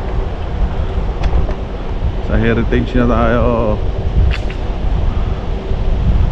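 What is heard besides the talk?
strong wind during a scooter ride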